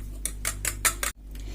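Five quick metallic clinks of a spoon beating broken eggs in a bowl, steady rhythm, close up, over a low hum.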